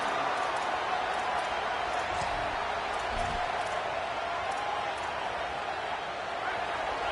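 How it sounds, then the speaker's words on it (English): A large football stadium crowd roars steadily on third down, a continuous wash of distant cheering and noise with an announcer talking over it. "Listen to this crowd just shaking the girders of this place"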